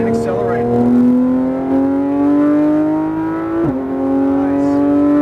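A car accelerates on a racetrack, its engine note climbing steadily with a brief dip near the end as it shifts, loud and close, with a voice talking over it.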